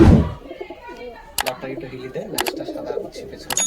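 A pair of chocolate Mohdom pigeons, male and female, coo softly in a few short bursts, heard close amid light handling noise and background chatter.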